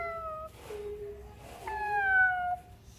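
A voice imitates a cat, giving a couple of drawn-out, wavering meows close up, the second one longer and louder.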